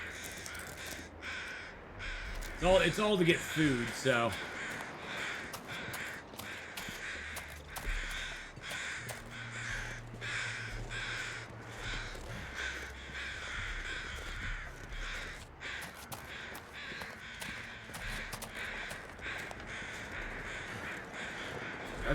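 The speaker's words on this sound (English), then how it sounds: "That's the crows there." Crows cawing in the survival game The Long Dark, a burst of harsh calls near the start over a steady windy ambient bed, with a brief spoken comment later in the clip.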